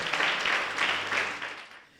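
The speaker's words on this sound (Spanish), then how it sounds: "Aplauda de nuevo al Señor." A church congregation claps during a morning worship service, a brief burst of applause with a few rhythmic swells that thins out and fades toward the end.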